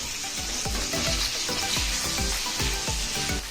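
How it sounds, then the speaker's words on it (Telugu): Salted tomato pieces cook down in a pan over a medium flame for a mint and coconut chutney. A continuous crackling sizzle runs throughout, with quick rhythmic taps and scrapes of stirring close by. "ఇగోండి టమాటా ముక్కలు మగ్గబెట్టుకుందాం"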